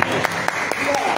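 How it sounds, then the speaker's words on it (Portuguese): An audience applauds a performer at a live show, with a short burst of scattered clapping mixed with voices. "Uma salva de palmas aí pro Chantilly."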